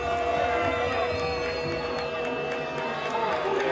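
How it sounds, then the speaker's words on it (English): A soccer crowd at a Napa Valley 1839 FC vs Afghan Premier FC match reacts angrily to a no-foul call, with a continuous loud roar of jeers and shouts filling the stadium, steady throughout without pauses. "The crowd apoplectic at that call."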